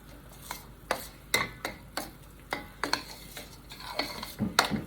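Gram flour batter for chicken pakoras is stirred in a bowl, a spoon knocking and scraping the sides in a quick, irregular rhythm of close, distinct clinks with no talking.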